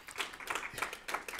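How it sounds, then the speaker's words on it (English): Brief, faint scattered clapping from a small group at the close of a live-streamed session on recruiting interns and managing remote staff, a few irregular claps lasting little more than a second. "Round of applause."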